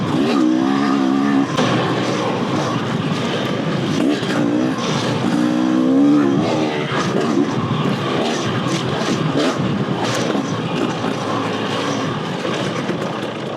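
A 2-stroke dirt bike engine revs hard in third gear on a rocky Arizona trail. It gives a loud, close, continuous raspy buzz that rises and falls in pitch with throttle changes, with no voices.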